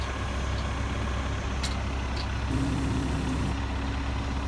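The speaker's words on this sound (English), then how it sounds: "Dad made it out here with his truck and he's adding to the pile" A truck idles and rumbles nearby on a farm while adding manure to a pile, a steady low engine drone with a faint hiss of air and a brief tonal whine partway through.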